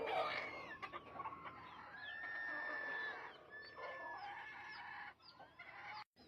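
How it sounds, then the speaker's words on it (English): Chickens and young chicks in a flock cluck and chirp continuously, with rising and falling calls overlapping throughout, fairly close and moderately loud. "let's check out the chicks."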